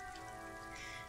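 Rain falls steadily in the Disco Elysium video game, a soft, even hiss of drops with no break, faint and without voices.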